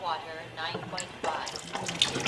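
Water from a Kangen water machine tap running into a container while a quart is filled, a steady splashing pour that shifts in tone partway through, close by, with a voice audible alongside.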